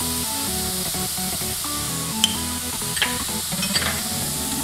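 Coriander and other ingredients sauté in a pan, giving a steady, close hiss of frying with a few soft clinks and stirring scrapes. No one speaks over the sizzle.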